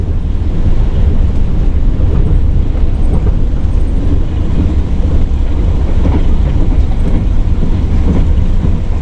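The Tawang Jaya economy passenger train rolls along the rails, a loud, steady low rumble with a constant wash of noise and no talking.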